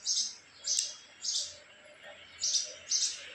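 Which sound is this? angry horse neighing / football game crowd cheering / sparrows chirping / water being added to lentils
sparrows chirping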